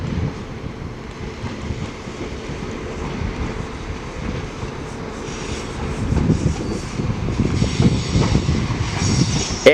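A train arriving at Chester from Crewe rumbles past at close range with low, steady rolling noise that grows louder toward the end, mixed with wind buffeting.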